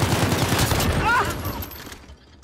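Rapid Uzi fire in the shooter game Modern Warfare, a dense, loud stream of shots that runs steadily and then cuts off, leaving a quieter tail.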